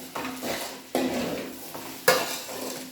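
Sabudana khichdi with sugar and lemon is stirred in a pan, with three or four distinct scraping strokes of a utensil against the metal.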